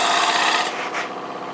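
A lathe turning tool floats lightly over the edge of a wooden bowl, peeling fine shavings with a steady, close rasping hiss that eases off partway through.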